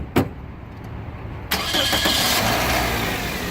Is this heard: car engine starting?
yes